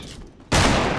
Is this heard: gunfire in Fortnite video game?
yes